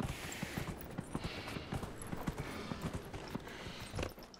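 Horse hooves clop in a steady galloping rhythm as a mount climbs a mountainside in Dragon Age: Inquisition, the hoofbeats close and fairly loud over a low ambient game backdrop.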